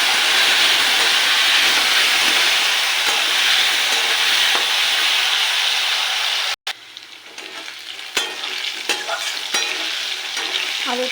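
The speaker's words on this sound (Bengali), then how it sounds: "আলুটাকে ভেজে নিয়েছি" Potatoes fry in hot oil with cumin seeds, a loud, dense, steady sizzle up close that cuts off abruptly, then continues more quietly with scattered crackles and stirring clicks.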